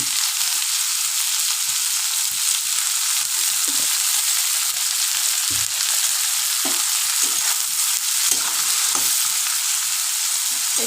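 Oil and salted vegetables for an egg curry (dimer dalna) sizzle steadily and loudly in a pan, with a continuous hiss and occasional soft stirring scrapes underneath.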